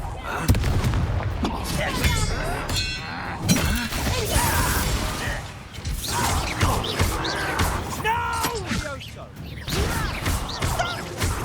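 Confringo blasting spell in Hogwarts Legacy, a series of bursting blasts with shattering crashes and booms that come in clusters across the fight, loud and near, mixed with voices talking.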